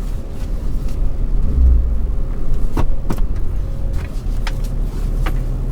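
Passing road traffic in Texas rumbles around a parked vehicle, a steady loud engine drone with brief whooshes and knocks of cars going by, no voices.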